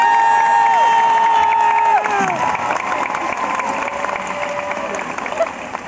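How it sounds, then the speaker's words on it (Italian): A concert audience applauds and cheers loudly at a show, with whoops and crowd noise as a sung melodic phrase fades out over the clapping. "magari un applauso fatemelo"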